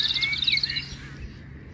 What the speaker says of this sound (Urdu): وہ خوبصورت سی چڑیا ایلسا کو بلاتی ہے